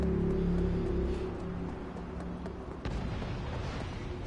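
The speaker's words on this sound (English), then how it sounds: "There was an explosion over there." A dull distant boom rumbles in Cyberpunk 2077 amid the continuous low roar of city and vehicle noise, with one sharper thud standing out near the end.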